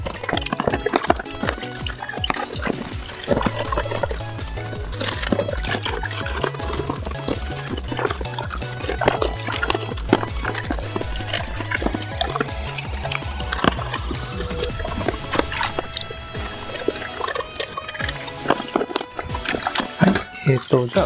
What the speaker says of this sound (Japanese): なのでこちらの方も洗っていきたいと思います。